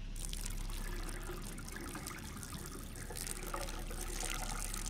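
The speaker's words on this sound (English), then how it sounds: "Water!" Water trickles steadily in the Saw video game, a continuous close splashing dribble like a running tap, with no talk over it.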